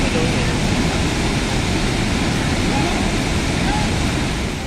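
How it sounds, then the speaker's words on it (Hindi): Floodwater rushing over a bridge near Udaipur, Rajasthan, during heavy monsoon rain: a loud, dense, unbroken roar of water that holds steady throughout and eases slightly at the end. "पुल के ऊपर से उफनता पानी"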